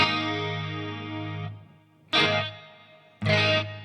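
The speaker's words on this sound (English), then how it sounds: "I use a chamber reverb on this" Electric guitar played through a Line 6 Helix with a longer chamber reverb: a sustained chord rings out and decays into a reverb tail, followed by two sharp strummed stabs that also ring and fade.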